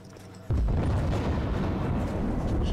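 Gunfire in Rise of the Tomb Raider, a sudden heavy boom that cuts in and rolls on as dense, rumbling shooting and blasts, loud and continuous.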